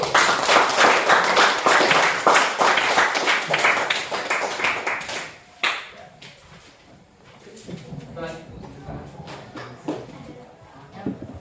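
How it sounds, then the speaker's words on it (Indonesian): A classroom group applauds a presenting group, dense clapping for several seconds that thins and fades out, followed by quieter room noise with a few stray taps and soft talk. "Beri aplaus untuk kelompok 1."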